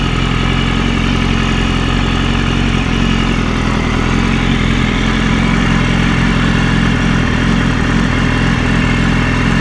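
A 2015 BMW S1000RR motorcycle engine idles steadily and loudly up close, its low, even rumble holding unchanged for the whole stretch with no voices.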